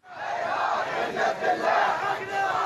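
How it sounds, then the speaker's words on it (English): A crowd of Shiite Muslims protesting in Saudi Arabia's Qatif district, chanting and shouting together in a loud, continuous roar that swells and surges. "Crowds of Shiite Muslims marched through Saudi Arabia's majority Shiite Qatif district on Saturday to protest against the cleric's execution"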